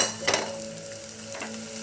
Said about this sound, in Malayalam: ഒരു ചെറിയ ബ്രൗൺ നിറത്തിൽ വരുന്നത് വരെ നമുക്ക് വഴറ്റാം